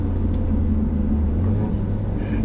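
A modified Ford Mustang with an aftermarket exhaust throbs with a deep, steady, loud engine rumble nearby, holding fairly even throughout.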